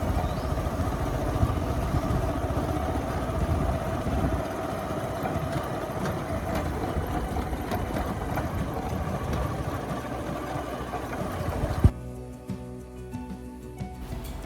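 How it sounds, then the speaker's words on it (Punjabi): A motorcycle engine drones steadily and close by for a long stretch on a wet, muddy road, then drops abruptly to a quieter idle near the end. "ਪਾਣੀ ਪਾਣੀ ਆ ਇੱਥੇ ਬੜਾ ਸੰਭਲ ਕੇ ਚਲਾਉਣਾ ਪੈਂਦਾ ਮੋਟਰਸਾਈਕਲ"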